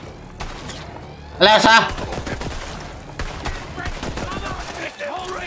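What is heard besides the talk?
Borderlands 3 laser weapon firing, from a video game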